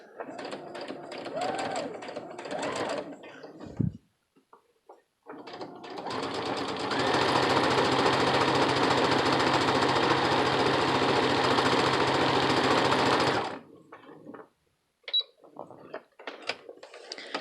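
A sewing machine fitted with a presser foot stitches steadily for about seven seconds at a fast, even whir, with brief talking and handling noises before and after.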